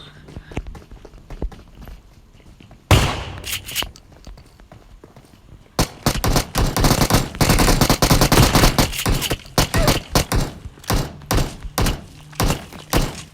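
Gunfire in the mobile battle-royale game PUBG Mobile: a sudden loud burst around the third second, then dense rapid volleys and repeated single shots with thuds, loud and close, continuing to the end.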